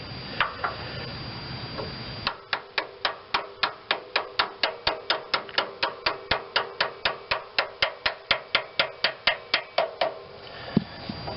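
Steady metal hammer blows on a John Deere 111 lawn tractor part with a Briggs and Stratton 11hp engine, about thirty sharp even strikes close up after a brief quieter stretch.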